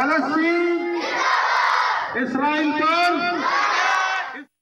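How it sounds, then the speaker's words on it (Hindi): At a school rally in Sukkur, a crowd of students and teachers shouts slogans in loud unison, in rhythmic bursts that break off abruptly at the end. "शुरका ने प्ले कार्ड्स, बैनर्स और फ़लस्तीनी परचम थाम कर नारेबाजी की।"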